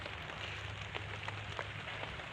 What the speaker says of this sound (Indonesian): nih lagi hujan, jadi berteduh di bawah ini pohon daun pisang kecil